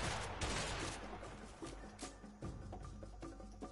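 Shotgun blasts in the co-op game A Way Out, a rapid cluster of gunshots with several sharp reports in quick succession, fairly faint overall with busy game noise around them.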